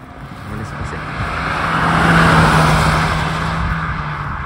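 A Suzuki Swift Sport with a stage 1 tune drives past, its engine note swelling from a distance to a loud peak mid-way, then fading as it moves away.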